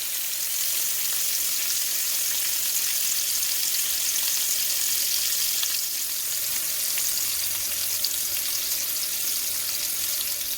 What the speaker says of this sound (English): Now that my pan is hot, I'm going to put this in. And I'm going to sear on each side